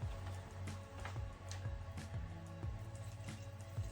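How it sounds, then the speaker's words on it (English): Hot water poured over dried mango and dried habanero chillies for a mead rebrew, a faint close trickle and splash into a vessel with small drips, quiet and continuous. "Now what we're going to do is rinse them through with a bit of hot water."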